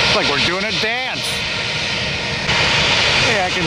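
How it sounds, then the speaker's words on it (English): Jet blast roars from the engines of a United Boeing 737 at Tampa airport, a loud sustained rush under a person speaking at the start. "This is a jet blast from this United 7-3."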